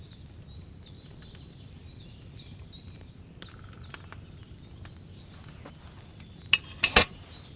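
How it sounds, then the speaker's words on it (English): A cauldron over a fire in Kingdom Come Deliverance 2, faint bubbling and soft crackle running steadily, with light clinks and chirping bird calls above and a couple of sharp knocks near the end. "Hear that bubbling? It's boiling."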